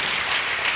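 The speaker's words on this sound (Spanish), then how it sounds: "Den un aplauso al Señor." Church congregation applauding during a Spanish-language sermon on the Holy Spirit, a brief dense wash of clapping, steady and fairly loud, with no voice over it.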